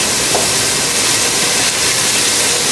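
White onions sizzling in hot olive oil for arancini, a loud, steady close hiss of frying that fills the whole stretch with no pauses and no voices.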